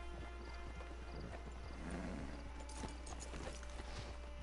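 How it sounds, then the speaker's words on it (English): Horse hooves clip-clop at a steady walking pace in the video game Red Dead Redemption 2, close and continuous over a soft outdoor game ambience. "It's your horse."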